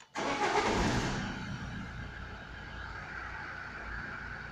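An Opel Astra H 1.9 CDTI diesel engine cranks and fires with a loud burst close by, then settles into a steady, even idle drone for several seconds.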